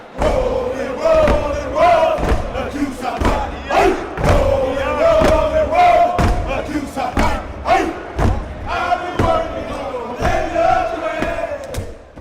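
Steppers at a step show in a university gym stomp and clap in a loud, driving rhythm while shouting chants together, heavy thuds repeating steadily for several seconds with the crowd around them.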